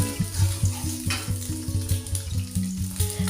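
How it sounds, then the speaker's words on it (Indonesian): Egg stir-fried with chili and garlic in a pan sizzles loudly and steadily up close, with a rhythmic pulsing low tone running underneath. "Terus ditumis sampai agak coklat, lalu dimasukkan telur."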